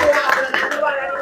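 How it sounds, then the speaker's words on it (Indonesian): Brief applause for a young participant at a scout retreat held at a campground, a short burst of clapping mixed with chatter and a light chuckle. "Tepuk tangan untuk Rian."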